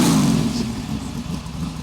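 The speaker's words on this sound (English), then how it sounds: "Don, rev the engine for me" A 1968 Beaumont pro street car's engine revs hard, a loud, close, rough roar that swells at first and then holds steady.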